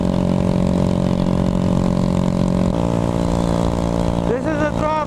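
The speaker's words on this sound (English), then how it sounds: "This is a throttle absolutely pinned going uphill on a Grom." A Honda Grom motorcycle climbs a hill at full throttle with the engine held at a steady, loud drone that shifts pitch partway through. Wind rush is heard near the end, and no one talks.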